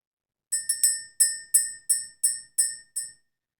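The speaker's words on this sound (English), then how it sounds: "Let's ring the bell." A ringing bell struck eight times in a fairly even rhythm, each bright metallic tone ringing briefly before the next, close and clear over silence.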